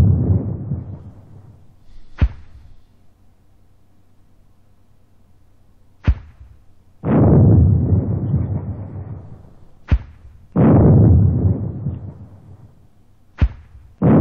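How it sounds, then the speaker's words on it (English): Light mortar rounds bursting in a military video game, four heavy thumping blasts spaced a few seconds apart, each with a rumbling tail, separated by sharp distant cracks; loud and close with no talking. "More light mortars. More light mortars."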